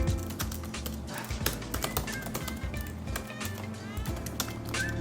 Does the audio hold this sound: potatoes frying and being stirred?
no